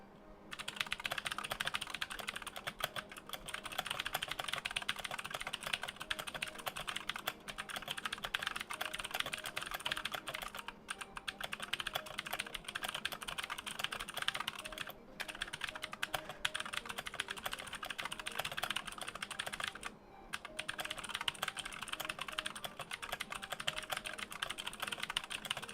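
Steady, rapid typing on a computer keyboard continues for nearly half a minute. Dense key clicks are broken by a few short pauses, quiet and close up, with no talking.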